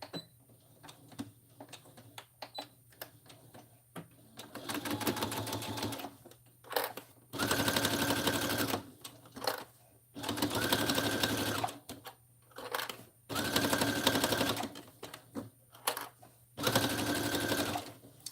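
A sewing machine stitches trench coat fabric in several bursts of fast, even whirring and clatter, each several seconds long, separated by quiet pauses with faint handling noises.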